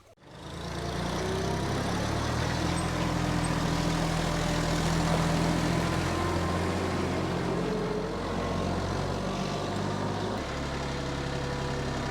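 A tractor engine runs steadily and loud up close, a continuous low diesel drone with no breaks or speech, on a small livestock farm readying a post hole digger.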